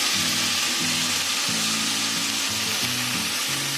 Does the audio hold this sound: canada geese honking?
no